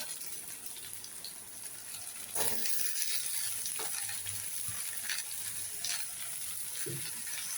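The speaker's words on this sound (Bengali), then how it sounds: "সব সিদ্ধ আলুগুলো দিয়ে একটুখানি কিছুক্ষণ আলুটা সমেতই ভাজবো" Boiled potatoes fry with onion and poppy seed in a pan, a continuous close sizzle that grows louder partway through, with occasional stirring clatters and no talking.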